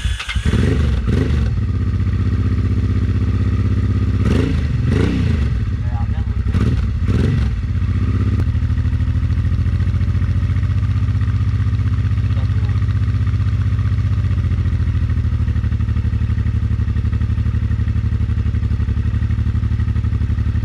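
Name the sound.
Honda Transalp 600 motorcycle engine starting and running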